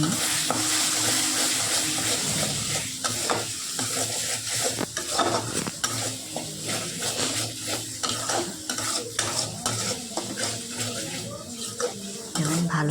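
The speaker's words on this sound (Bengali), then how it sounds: "এরকম করে ভালো করে নাড়ছি একটু ভাজা ভাজা আমার হয়ে এসেছে" A spatula scrapes and stirs mashed beans frying in a pan for a bean vorta, repeated close scraping strokes over a soft steady sizzle, with occasional clinks of metal on the pan.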